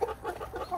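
Village chickens clucking in soft, repeated calls at a moderate distance, with a constant background hiss of the outdoors.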